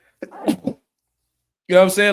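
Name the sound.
sneeze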